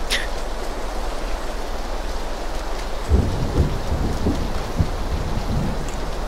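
Steady heavy rain and rolling thunder from a storm in the PUBG battle royale game, constant hiss with low thunder rumbles and crackles building after the midpoint, no voices.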